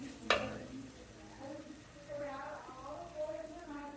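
Small-cut carrots and beans tip into a pan of cooked-down biryani masala paste, with a sharp clatter followed by soft sizzling and stirring, and a voice talks over the later part.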